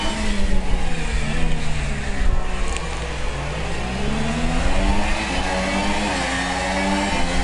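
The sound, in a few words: race car engines revving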